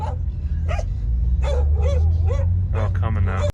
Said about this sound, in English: It's like 20 fucking dogs over here.